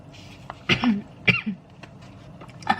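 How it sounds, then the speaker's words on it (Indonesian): A person coughs several times in short bursts with a throat-clearing quality, close and fairly loud, spaced irregularly with breaths and brief quiet between them. "Batuk."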